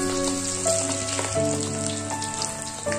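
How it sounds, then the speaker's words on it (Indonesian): Sun-dried beef sizzling and crackling in hot oil, a steady frying hiss with occasional stirring noises and sharp pops, close and fairly loud. "daging yang sudah kita jemur tadi, kita goreng."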